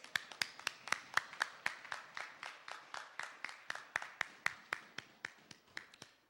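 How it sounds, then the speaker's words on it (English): Audience applause at a Toastmasters meeting: a room of people clapping steadily at a brisk, even rhythm for about six seconds, sharp distinct hand claps standing out near and clear. "give our lexicologist, Toastmaster Brooks, one more round of applause, please"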